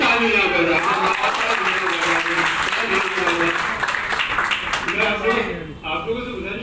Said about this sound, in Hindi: इसलिए जोर से तालियां बजाओ।